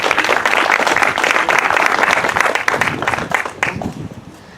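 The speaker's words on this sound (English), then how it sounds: "Let's give a round of applause" A crowd at a 2020 Census launch event in Monterey County gives a full round of applause, dense clapping that holds steady, then thins out and fades over the last second.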